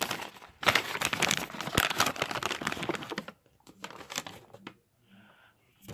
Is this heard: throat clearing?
no